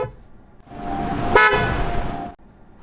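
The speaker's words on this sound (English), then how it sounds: "Now if we do honk the horn," A Kia Niro Hybrid crossover's horn gives one loud, low-pitched honk lasting over a second and a half, heard close by with no talking.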